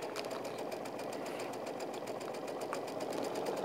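A sewing machine runs steadily at a fast, even clip while stitching triangle squares for an autumn quilt, with a continuous rapid needle rhythm close up and no talking.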